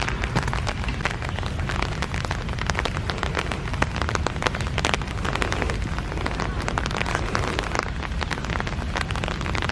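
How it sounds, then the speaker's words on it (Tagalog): Steady rain pours down outdoors on a nature walk near a reservoir, a dense continuous hiss of drops hitting surfaces and foliage with no voices. "And then ngayon, umuulan na uli."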